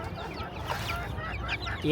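Chickens cluck quietly in short, scattered bursts against a steady low background hum, with faint voices nearby.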